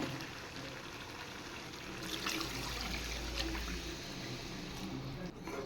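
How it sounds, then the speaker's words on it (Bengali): Water poured into a cooking pot of browned chicken and potatoes, a soft trickling stream that swells briefly in the middle before tapering off, faint against a quiet kitchen background. "এবার আমি দিয়ে দেব জল"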